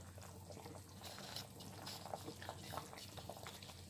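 Spice sauce for a coconut-free rendang bubbling and simmering in a wok, a steady low bubbling texture with occasional pops and small splashes, moderately close and fairly quiet.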